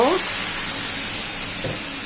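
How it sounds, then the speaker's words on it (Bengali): Water poured into a hot pan of fried onions, a loud steady hiss and sizzle filling the whole stretch, with a brief higher tone at the start. "বেরেস্তা করা হয়ে গেছে, এখন পানি দিয়ে দিব।"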